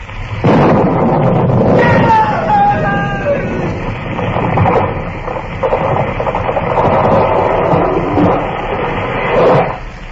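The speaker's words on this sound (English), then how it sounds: "It was lightning. It struck the tree." A lightning strike hits a tree, setting off a loud, sustained thunder crash and rumbling roar that swells, eases and surges again over about ten seconds, close and heavy.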